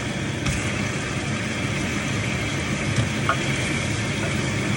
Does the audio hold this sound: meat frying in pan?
yes